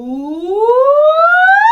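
During a voice-lesson warm-up, a singer imitates a siren with a smooth, clear vocal glide that climbs steadily in pitch from low to high, heard alone and up close.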